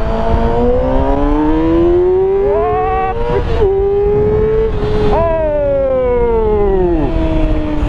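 A 2008 Yamaha YZF-R6 sport motorcycle accelerating hard on the road, its loud close engine whine climbing steeply in pitch through high revs, dropping briefly at gear changes, then rising again before easing off.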